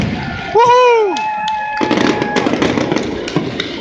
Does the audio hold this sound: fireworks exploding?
yes